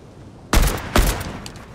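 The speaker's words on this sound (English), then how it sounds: "He's sniping." Two loud, close sniper rifle shots crack out in Fortnite about half a second apart, each with a short echoing tail.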